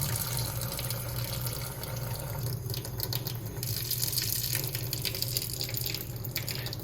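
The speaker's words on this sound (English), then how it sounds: "So now I'm going to add a little bit of water." Water runs steadily from a tap into a microwave egg poacher, filling it just enough to cover two eggs; a continuous, close, fairly loud splashing stream with no talk.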